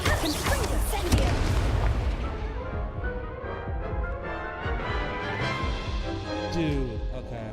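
Confringo and Incendio spell blasts in the Hogwarts Legacy video game, loud booming crashes and fiery bursts at the start that fade into rumbling, crackling debris, with game effects continuing underneath.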